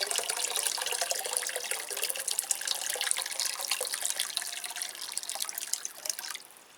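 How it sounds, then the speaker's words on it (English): Hot water streams from a tap into a container of orchid fertilizer mix, a steady close splashing and trickling that runs continuously before tapering off at the end. "Put some hot water in to bring it up to temperature."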